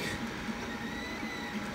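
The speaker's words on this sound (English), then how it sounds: "this is the printer we currently have for sale, Anycubic" An Anycubic Kossel 3D printer runs with a quiet, steady mechanical whir and faint recurring motor tones, heard alone without talk.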